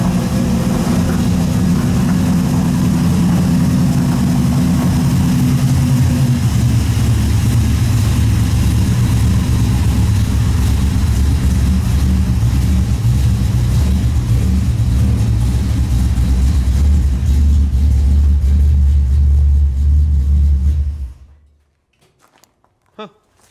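A Dodge Dart's engine runs loud and steady as the car rolls into a garage, a continuous low rumble that shifts down partway through, holds, then cuts off abruptly near the end, leaving near silence.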